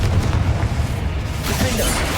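A Confringo blasting spell detonating in Hogwarts Legacy, a loud, dense boom with a rumbling low-end burst that swells and fades over a couple of seconds.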